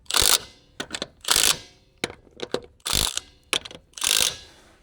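A ratchet wrench tightens lug nuts on a Polaris RZR Pro XP wheel, giving repeated bursts of rapid metallic clicking, close and loud, with short gaps between strokes.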